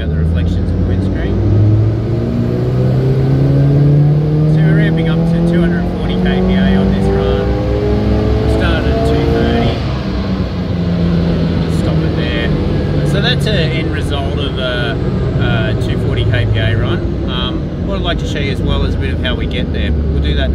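A car on a dyno during a full ramp run under ECU tuning, its engine note climbing steadily in pitch as it accelerates through the gears of load, loud and continuous with some background workshop noise.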